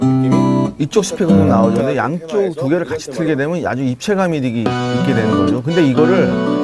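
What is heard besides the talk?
No distinct noise like a dog, phone or traffic.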